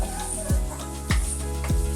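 Turmeric and ginger-garlic paste fry in a pan with a steady close sizzle, punctuated by three regular scraping stirs about half a second apart.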